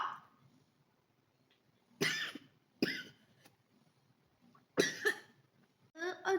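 Several separate coughs, close and sharp, spaced out with quiet pauses between them, and no talking.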